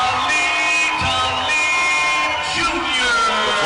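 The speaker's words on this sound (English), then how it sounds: "Crowd is on their feet right now for this fight" A boxing arena crowd roars at a November 2019 El Tigre Promotions fight, with whoops, yells and cheers swelling in a loud, continuous wash while a ringside announcer talks over the din.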